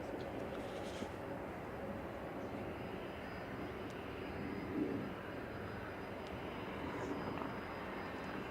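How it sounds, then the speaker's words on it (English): A Cathay Pacific airliner taxis out at Manchester Airport, a steady broad engine rumble and hiss held at moderate distance with no clear rise or fall. "Cathay Pacific is specifically taxiing out"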